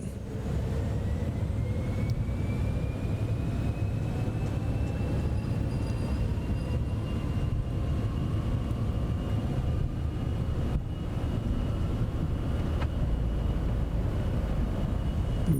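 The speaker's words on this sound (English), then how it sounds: "Ready for takeoff. Auto throttle. Takeoff power set." Engines of a Cessna Citation X business jet at takeoff power during the takeoff roll in Microsoft Flight Simulator 2024, a loud, continuous roar with rising whine tones that stays steady and dense throughout.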